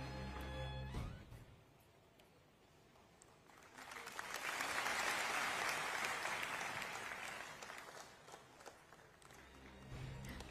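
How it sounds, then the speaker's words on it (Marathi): Audience applause at a felicitation ceremony during a Paani Foundation event, a broad burst of clapping that swells to a loud peak midway, then tapers off, with a little crowd noise around it. "जोरदार टाळ्या झाल्या पाहिजेत मित्रांनो"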